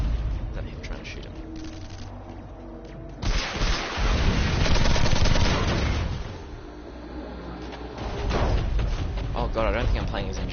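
Battle noise in the video game Planetside 2 on PS4, with gunfire and heavy booming blasts swelling in loud waves against a constant rumble, then easing before rising again.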